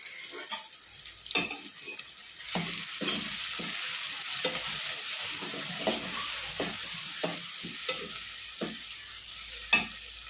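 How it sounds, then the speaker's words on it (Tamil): Onions sautéing in a pan for village-style seer fish curry, a steady close sizzle punctuated by repeated spatula scrapes and knocks against the pan, with no voices. "அதனால் கொஞ்சம் நல்லா வதக்கணும் வெங்காயத்தை."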